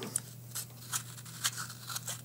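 The ball head of a cheap Comica smartphone stand is being rotated, giving a rough, uneven grinding crunch in short scrapes over a constant low hum, close and fairly quiet.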